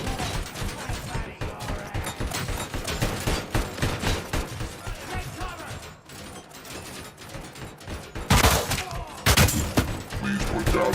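Enemy gunfire in the game RoboCop: Rogue City: rapid, loud volleys of shots and crashing impacts fill the mix, with a sharper burst near the end.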